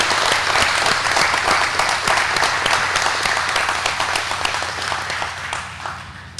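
A hall audience at a takeover signing ceremony breaks into a long, loud round of applause, dense steady clapping that tapers slightly toward the end.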